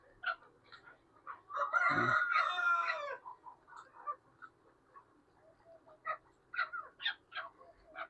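Chukar partridges on a farm give a loud, harsh burst of calling near the middle, with scattered shorter chirps and clucks from other birds around it, fairly close by.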